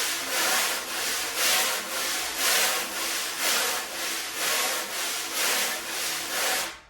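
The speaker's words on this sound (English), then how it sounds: "If you place the whole brush head like this with a lot of pressure on the drum head" Jazz wire brush pressed hard against a drum head with heavy pressure, making a dense scratchy swishing rub in about ten even back-and-forth strokes, close and steady, with no talking.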